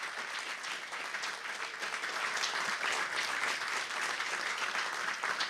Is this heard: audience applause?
yes